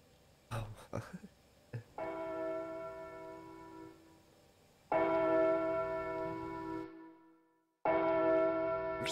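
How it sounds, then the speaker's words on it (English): A church bell rings out in long, sustained tolls with shimmering overtones, three strong strikes each decaying slowly, after a few brief knocks at the start; no voices are heard. "What's that bell even mean?"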